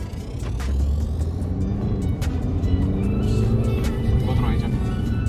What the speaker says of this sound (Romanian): ne schimbăm acum să conduc și eu acest frumos CLA Shooting Brake